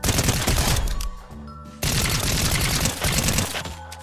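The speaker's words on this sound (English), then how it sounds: "Alright, now the Veiled Precision SMG." Veiled Precision SMG fired in Fortnite, two long rapid bursts of loud close gunfire split by a brief pause, with the second stretch of automatic fire trailing off at the end.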